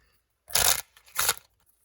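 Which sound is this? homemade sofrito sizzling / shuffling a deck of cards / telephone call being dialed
shuffling a deck of cards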